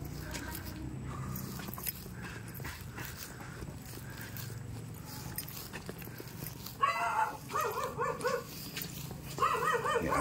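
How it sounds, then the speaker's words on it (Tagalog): A dog barks in short bursts near a house in a hilly rural area, several sharp barks in the latter part over footsteps and faint background voices, fairly quiet overall. "Yung aso."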